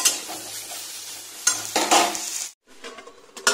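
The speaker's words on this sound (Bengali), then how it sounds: "আমি ভেজে নিই ভালো করে" Vegetables such as pointed gourd and ivy gourd fry in a pan with a steady sizzle, broken by scraping and clattering stirring strokes and a short pause near the end.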